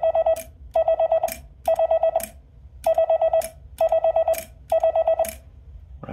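Repeated quick runs of Morse-code dits from a semi-automatic telegraph bug, each run ending in a sharp mechanical click of the paddle hitting its damper, about seven runs evenly spaced and close.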